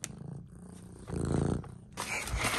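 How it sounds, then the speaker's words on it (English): A cat purrs loudly up close, a low motor-like rumble that swells and fades in uneven waves over a few seconds, with some rustling noise. "Listen to him purr."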